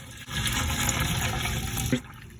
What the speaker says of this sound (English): I'm just gonna fill them up the whole way with some vinegar so I can just put in as many lures as I want